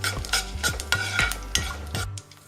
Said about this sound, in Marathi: हे चांगलं आपल्याला परतवून घ्यायचं आहे।